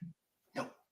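A dog gives two short barks a moment apart, the first brief and low, the second louder, sharper and more yelping, both close by with silence around them.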